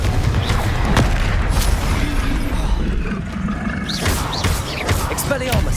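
Confringo blasting spell in Hogwarts Legacy, heavy booming explosions and whooshing magical bursts repeated through chaotic combat, with rumbling low end and bright swishes, mixed with voices.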